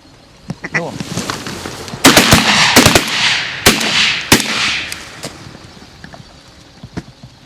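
Shotgun blasts at mallard ducks in a North Dakota corn field, several loud, sharp reports in quick succession, some doubled, close by, with duck quacking and people shouting between and after the shots.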